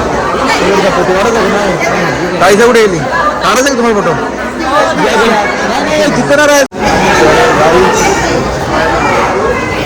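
Dense chatter fills a crowded train from Pandharpur, many overlapping voices close by and steady throughout, with a brief dropout midway before the babble resumes.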